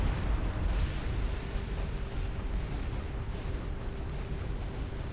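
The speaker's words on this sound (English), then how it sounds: "Continental wouldn't die to the ACU explosion." An ACU blowing up in the strategy game Supreme Commander: a sustained, fairly quiet rumbling roar of blast noise with a heavier burst at the start, mixed with faint pops and game effects.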